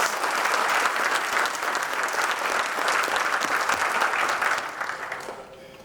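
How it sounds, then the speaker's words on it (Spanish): Strong audience applause in the Senate for Nobel Peace Prize laureate Rigoberta Menchú, a dense, lively clapping roar that holds steady before tapering off in the final second. "Un aplauso muy fuerte para Rigoberta, Premio Nobel"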